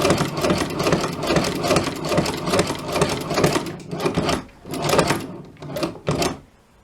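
A hand-cranked cobbler's sewing machine chatters rapidly and rhythmically as it stitches, the needle action pausing and restarting in short bursts toward the end, close and moderately loud with no speech.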